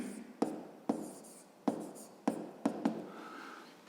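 Numbers are written by hand on paper for a column subtraction: a close, quiet run of pen strokes with sharp taps, scratching steadily for a few seconds, no voices.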